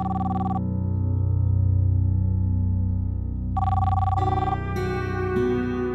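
A telephone rings with electronic bursts, one short ring, a pause, then another that leads into a rising, busier tone pattern, close and clear above a low steady background hum, with no talking.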